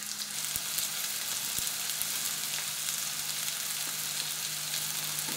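Onions softening in a frying pan give off a steady, even sizzle that stays at a constant level from start to finish, with a few faint clicks from stirring and no voices.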